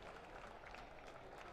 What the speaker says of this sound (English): And applause from the Effingham side of the field.